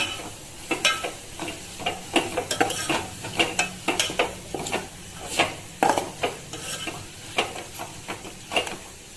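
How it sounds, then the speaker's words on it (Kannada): Turmeric frying in oil for a potato palya, with a spoon stirring and scraping the pan in quick irregular strokes over a soft steady sizzle, close and clear. "ಅರ್ಧ ಟೀ ಸ್ಪೂನ್ನಷ್ಟು ಅರಿಶಿನ ಹಾಕಿ ಫ್ರೈ ಮಾಡ್ಕೋಬೇಕು"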